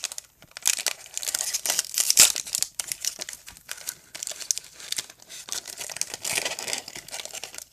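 Crinkly plastic wrappers of Bikkuriman-style chocolate snacks being torn open and crumpled by hand, a near, continuous rustling with sharp crackling bursts and no talk.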